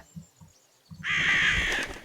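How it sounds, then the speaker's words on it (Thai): A crow in the video game Zoo 2 Animal Park gives a single loud, harsh caw after a few soft clicks. "กำจัดอีกาครับ"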